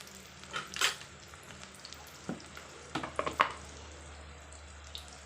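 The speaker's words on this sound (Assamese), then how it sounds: "পিঁয়াজ অলপ দি এয়া ধুনীয়াকৈ মই লৰাই লৰাই ভাজি লৈছোঁ।" Onions sizzle steadily in hot oil, with a few scraping stirs and clinks of a utensil against the pan.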